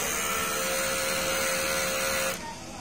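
An inkjet printer running a head-cleaning cycle, a steady mechanical whir and hum, then drops abruptly to a quieter hum near the end.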